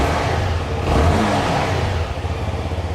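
A CFMoto 250NK 250cc motorcycle engine revs up close by, its mid-pitched drone swelling to a louder peak before settling back into a steady, slightly pulsing idle-like throb.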